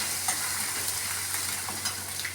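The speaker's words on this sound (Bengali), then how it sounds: "আদাটা একটু ভাজা ভাজা করে নেব।" Ginger pieces fry in hot oil alongside torn bay leaf, giving a continuous close-up sizzle with a few soft stirring taps and pops.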